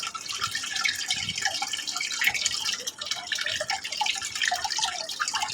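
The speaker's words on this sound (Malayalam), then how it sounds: "നമുക്ക് ഈ മാങ്ങയൊന്ന് കഴുകിയെടുക്കാം" Ripe mangoes being washed in water, a steady close wash of splashing, dripping and trickling with small bright droplet sounds throughout and no voice.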